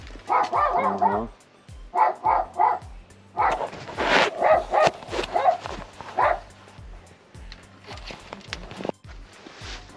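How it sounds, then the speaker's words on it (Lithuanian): A small dog barks repeatedly in short, yappy bursts, close by, with pauses between volleys and a few softer yips near the end. "Šuniuks."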